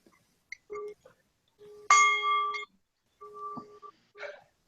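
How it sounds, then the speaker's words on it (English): A small bell is struck several times in irregular succession, giving ringing tones that decay quickly, with one brighter, louder strike near the middle; faint and isolated, no speech over it. "Let's see if the bell will help."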